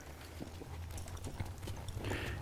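Hooves of a young horse clip-clop and shuffle on the ground as a trainer turns the colt, several close, uneven steps over a low steady rumble.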